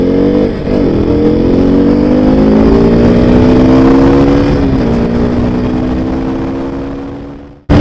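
A KTM motorcycle accelerates hard, its engine climbing steadily in pitch through the gears with a brief shift dip, loud and close, then fading as it pulls away.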